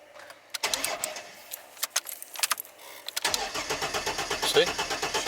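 A Ford Falcon three-seater ute's engine cranks over repeatedly with a fast rhythmic churn, preceded by scattered clicks and knocks; the engine does not catch, with a fuel pump at fault.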